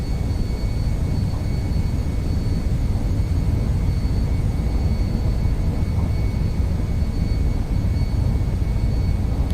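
Jet engines of an MD-11 in the X-Plane 11 flight simulator roar steadily through a takeoff roll, a loud, constant low rumble with a thin high whine on top and no talking.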